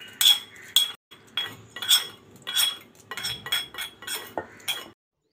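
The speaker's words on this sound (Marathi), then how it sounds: "आता ही तयार फोडणी आपल्याला दही भातावर घालायची आहे" Hot tempering is added to temple-style curd rice, with a metal spoon clinking sharply against a pot or bowl about a dozen times in a steady, uneven rhythm, close and loud, no talk.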